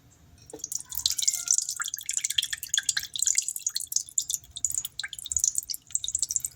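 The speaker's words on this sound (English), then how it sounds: "we're going to go ahead and add the lemon juice" Lemon juice is poured into a slow cooker, producing a close trickle of rapid drips and splashes that continues throughout.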